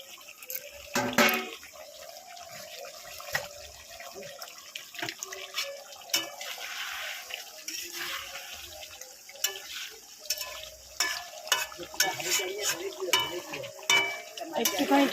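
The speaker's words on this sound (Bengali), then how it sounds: "টকবক করে ফুটছে।" Food boils in a covered pot on a home stove during Bengali cooking, a steady close bubbling and sputtering texture with small irregular pops running throughout.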